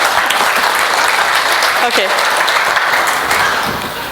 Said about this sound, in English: I can say that people were applauding my talk now.